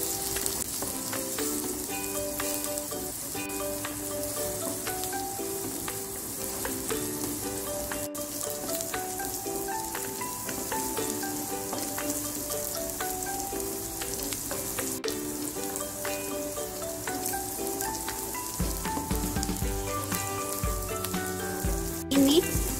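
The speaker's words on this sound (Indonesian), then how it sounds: "Sekarang akan saya tumis. Kita tumis sampai layu ya" Chopped garlic, sliced onion and ginger sizzle steadily in a hot pan as they are stir-fried, a continuous close frying hiss with occasional scraping from stirring.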